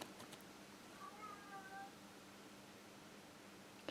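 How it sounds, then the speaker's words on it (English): A cat meows faintly from somewhere outside the room, a short wavering call standing a little above a steady background hum. "She's still meowing."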